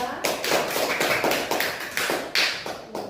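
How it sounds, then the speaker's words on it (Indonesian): Classroom applause for a student group in a school lesson, a burst of many hands clapping in uneven rhythmic waves, close and fairly loud, lasting about three seconds. "Kita berikan aplaus untuk kelompok 2."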